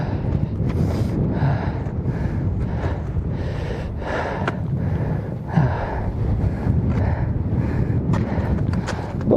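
Cold wind buffeting the microphone high on Mulhacen mountain in Spain, a constant loud low roar with gusty surges and no voices.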